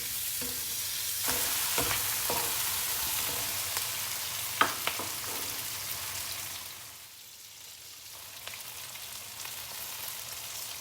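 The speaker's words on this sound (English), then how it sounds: "I will add in the sausage together and fry it as well, mixed with the other ingredients." Sausage stir-fried with other ingredients for black pepper sausage, giving a steady sizzle with scattered sharp clicks of stirring against the pan, no talking.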